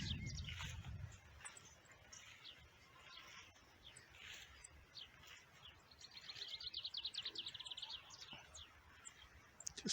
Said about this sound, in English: I saw a blue tit there a minute ago.